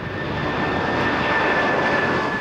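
A jumbo jet weighing over 300 tonnes roars loudly and steadily on takeoff, a broad sustained engine rush with a faint high whine running through it, and no voices.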